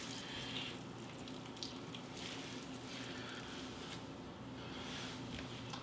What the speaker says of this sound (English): Gonna squeeze it out some more. Really good now. Squeeze it really good.